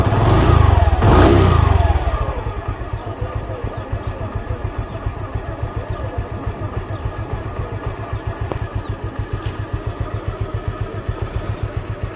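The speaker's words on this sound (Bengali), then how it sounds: "আমি একটা কিক দিয়ে স্টার্ট দিয়ে আপনাদেরকে দেখাই।" A Suzuki Hayate 110 motorcycle is kick-started and settles into a steady idle: a loud initial burst of engine noise, then a rapid even putter that runs close and clear for about ten seconds, with no talking.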